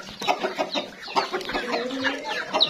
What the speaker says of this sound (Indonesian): Ini ada ayam petasan saya yang baru menetas.